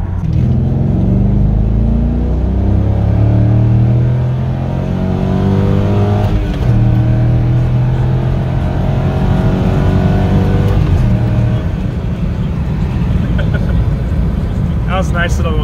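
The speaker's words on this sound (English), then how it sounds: "That was a nice little 0 to 45 acceleration." A Corvette with a manual clutch pulls away from a standstill to about 45 mph while the engine is not yet fully warm, and a loud, steady engine note rises through the gears under a few brief shift breaks.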